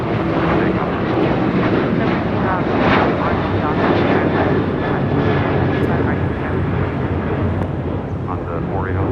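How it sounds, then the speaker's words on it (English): An American Airlines Boeing 737-800 takes off from LAX on a flight to Nashville, a loud, steady broadband jet roar filling the whole stretch, with voices faintly underneath. "This is American Airlines 1292 taking off to Nashville on a 737-800"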